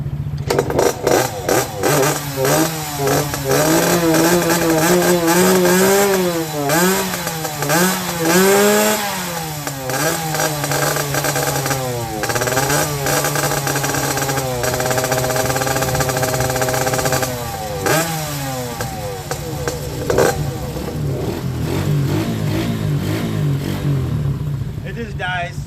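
Motorcycle with carburetor trouble starting and revving repeatedly, loud close engine that climbs and falls in uneven bursts, sputtering and surging throughout, with a voice talking over it.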